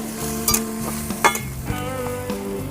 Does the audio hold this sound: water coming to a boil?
yes